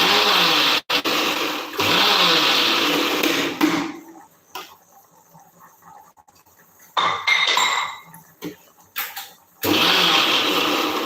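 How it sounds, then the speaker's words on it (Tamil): A kitchen mixer grinder whirs loudly as it grinds coconut, running in steady bursts that stop abruptly, with quiet gaps of faint clinks and rattles before the motor starts again near the end. "தேங்காய் அரைச்சி முடிச்சிட்டேன்."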